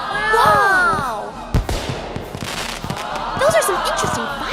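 Cartoon fireworks burst in a loud, busy sequence of bangs and crackles, with whistling tones, sharp pops and a cheering crowd mixed in.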